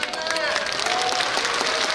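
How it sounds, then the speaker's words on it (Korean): A large audience at a talk concert in Daegu claps together in a practice round, a dense, steady wash of applause filling the room throughout, with voices mixed in. "박수 연습하는 시간 한번 가져보면 어떨까요?"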